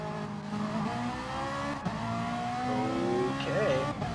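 Ferrari race car in a GT racing video game, engine droning steadily with rising and falling revs and a brief tire squeal, heard continuously at moderate loudness.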